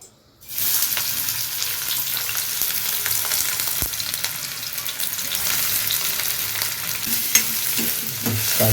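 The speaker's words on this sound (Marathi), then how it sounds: "मस्त याच्यामध्ये ग्रेव्ही घालून घेऊ" Gravy poured into a hot kadhai for prawn biryani and stirred, a loud steady sizzle and frying hiss starting abruptly and continuing throughout, with faint scraping of the stirring spoon.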